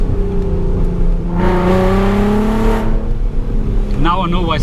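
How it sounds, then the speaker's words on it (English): Volkswagen Golf R32 engine revving nearby, a steady loud drone rising into a smooth, climbing rev in the middle, then a quick throttle blip on a downshift near the end. "it blips the downshifts nicely as well"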